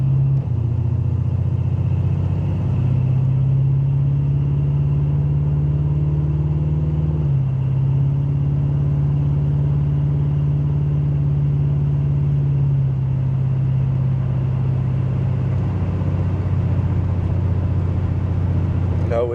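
A 1986 big block Buick Regal Limited being driven, its deep engine rumble steady and close. The pitch rises and falls through a few shifts over a long stretch, and no voice is heard over it.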